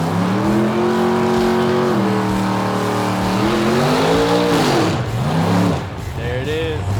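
A nitrous-fed big-block Buick making a drag racing pass at a Buick GS Nationals event, a loud, close engine roar rising and falling in pitch with gear changes, then fading at the end.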